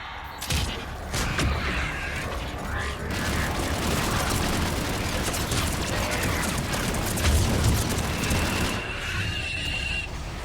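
Missile strikes exploding in the Mass Effect 3 video game, a sustained barrage of rumbling blasts and mechanical clatter that runs continuously for about ten seconds, with a voice faintly under the din.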